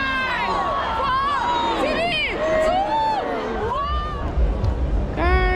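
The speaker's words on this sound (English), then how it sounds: "look at the crowd that is here" A dense outdoor crowd at a Dubai New Year celebration fills the air with loud, continuous shouting and cheering, voices rising and falling close by as people chant a countdown together.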